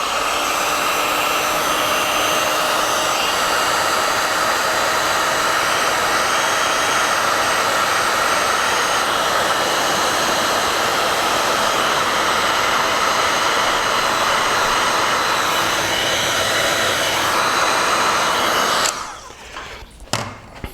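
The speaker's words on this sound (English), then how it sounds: "And then I'm going to take a heat gun with this heat shrink." Heat gun shrinking heat shrink tubing during an angle grinder chop-saw build, a loud, steady blowing roar held for about nineteen seconds before cutting off abruptly, followed by a few faint knocks and clicks.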